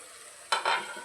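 Food frying in a pan over a medium flame for palak peas gravy, a quiet background hiss that flares into two brief, bright sizzling bursts as it is stirred.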